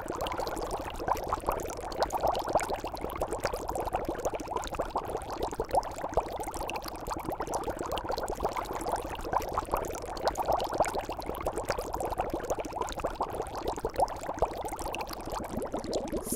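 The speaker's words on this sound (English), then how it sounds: "Boil water." A pot of water boils steadily on a stove, a continuous bubbling, rolling hiss at low level with no speech over it.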